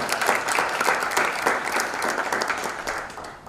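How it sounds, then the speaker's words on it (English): An audience at a business awards ceremony applauds Priyan Fernando, a former American Express executive being honoured as a pioneering business leader, with dense, sustained clapping that tapers slightly toward the end. "I think it really demands a round of applause."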